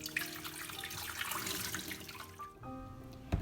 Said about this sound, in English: Now I'm going to dump this water.